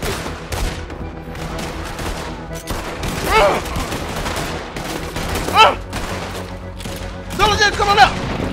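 Gunfire from a gun in the Red Dead Redemption 2 video game: several sharp shots scattered through the stretch, with a dense burst near the end, mixed with game sounds and a player's chatter.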